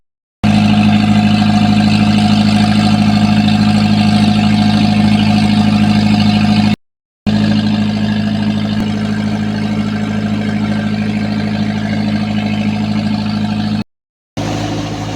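A fishing boat's engine runs steadily while heading out to sea before dawn. The hum is loud, close and unbroken, interrupted only by two brief silent cuts, and no one speaks.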